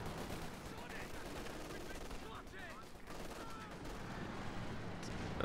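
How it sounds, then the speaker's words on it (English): Anti-tank guns and other weapons firing in the video game Company of Heroes 2, dense battle gunfire and booms layered under continuous game noise. "Oh, double AT gun."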